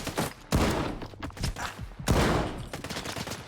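A shotgun fires repeatedly in the shooter STALKER 2, with loud, sharp blasts spaced a second or so apart and a few quieter shots and impacts in between.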